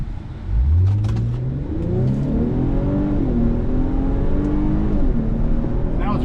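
A 2021 Infiniti Q50 Red Sport 400 with a twin turbo V6 accelerates hard, its engine note climbing steadily in pitch through the gears, loud and close from inside the car.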